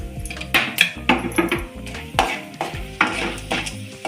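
Chana dal crackling and frying in hot oil with popped mustard seeds in a pan, loud close sizzling broken by repeated scrapes and clinks of a spoon stirring, with no talking.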